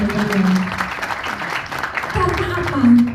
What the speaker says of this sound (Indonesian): Beri tepuk tangan yang luar biasa dulu.